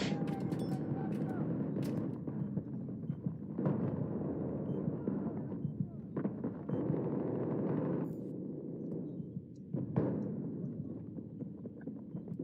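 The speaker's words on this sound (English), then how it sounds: "Everybody's just hanging out back now, sniping. Snipers and shotguns." Sniper and shotgun fire rings out in a Battlefield 6 match, with repeated sharp shots and booming blasts scattered over a constant dense battle rumble, some near and loud, others distant.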